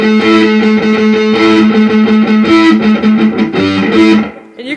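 Distorted electric guitar harmonics strummed with a pick, playing a riff: loud, ringing, repeated chugging strums with effects, no talking.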